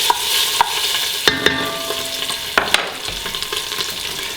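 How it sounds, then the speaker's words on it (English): Vegetables and tomato paste cooking down in a large pot for smooth tomato soup, a steady close sizzle broken by several sharp scrapes and clinks of a spoon stirring against the pot, with no talking. "then we're going to add this and let the vegetables cook down"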